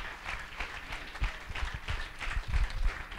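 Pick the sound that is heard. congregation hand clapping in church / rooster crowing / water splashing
congregation hand clapping in church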